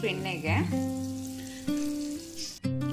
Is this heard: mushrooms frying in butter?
yes